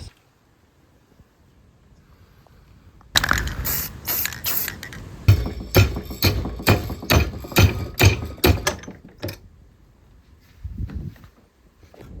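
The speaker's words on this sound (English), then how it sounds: "I've marked off the rubber mat. So with our favorite pair of kitchen scissors" Kitchen scissors snip repeatedly through a thick rubber mat, a run of rhythmic crunching cuts with rustling handling noise, followed by a quieter pause and a soft thump.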